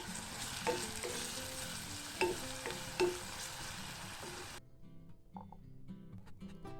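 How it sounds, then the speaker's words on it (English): Chopped onion sizzles and sautés in oil in a pan, a close, steady frying hiss broken by a few sharp stirring clatters, then the sizzle drops to a quieter crackle near the end. "Finally chop 1 medium onion and saute them for 3 to 4 minutes"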